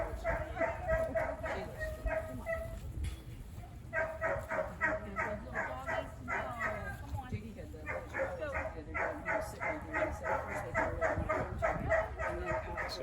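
Three small shelter dogs, one of them 14 years old, meet together for the first time, yipping, barking and whimpering in repeated quick bursts nearby while people talk in the background.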